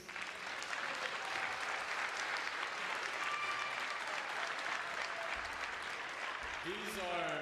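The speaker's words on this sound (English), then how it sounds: "round of applause for Concert Orchestra, please?" Audience applause for a high school concert orchestra, a steady, moderately distant roar of many hands clapping that carries on throughout, with a voice briefly audible near the end.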